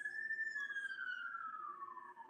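A siren wails in a long, steady descending tone, moderately loud and alone with no talking over it.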